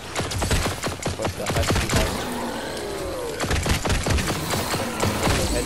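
Rapid pistol shots crack out in Fortnite Save the World, a steady string of sharp close-range reports fired into husks, with one brief spoken word in the middle.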